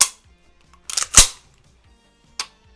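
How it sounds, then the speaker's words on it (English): Derya DY12Y shotgun racked in a quick burst of sharp mechanical clacks, a short pause, then a single crisp snap, close and loud with no talking. "One of the things I absolutely love is just the sound of it racking."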